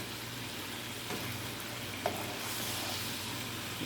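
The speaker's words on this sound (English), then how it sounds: "heat them on the pan and toast them up as a quesadilla" Chicken quesadillas toast in a hot pan, giving a steady, gentle sizzle that stays even throughout, with one small click partway and no voices.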